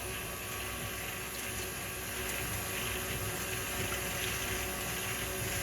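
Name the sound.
milk slowly poured into a pan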